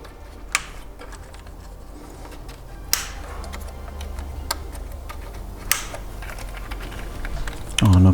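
Fuel injector electrical connectors on a Nissan Titan V8 engine snap into place one by one, a few sharp isolated clicks spaced over a low steady background, close and fairly faint.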